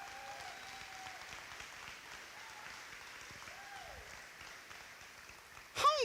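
Audience at a college convocation applauding steadily, a broad continuous patter of many hands heard from a distance, with a brief louder burst near the end.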